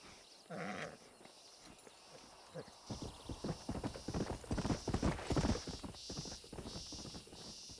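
Horse hooves clip-clop in the Nintendo Switch version of Red Dead Redemption, a loud, steady rhythmic trot that builds after a brief pause and continues to the end with no talking.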